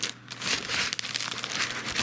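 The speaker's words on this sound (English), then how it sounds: "Comes with that kind of plasticky fake foam stuff." Plasticky fake foam packaging from a cardboard desk lamp box crinkles and rustles as it is handled, close and fairly loud, in continuous scratchy bursts.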